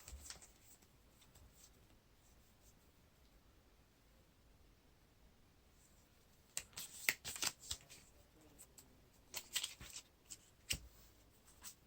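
Playing cards are drawn and handled during a Lord of the Rings living card game. A quiet stretch gives way to a series of soft, close flicks and riffling snaps in the second half.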